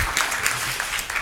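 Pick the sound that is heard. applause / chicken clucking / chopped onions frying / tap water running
applause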